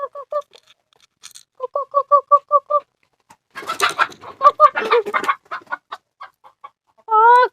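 Native Thai chickens clucking and squawking up close in short repeated bursts, with a flurry of wing flapping and scuffling in the middle and a drawn-out squawk at the end.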